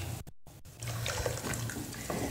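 Water is poured from a tumbler into leftover cooked rice in a pressure cooker for sambar rice, a close, steady splashing gush after a brief silent gap, with no talking.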